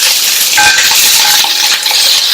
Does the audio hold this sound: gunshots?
no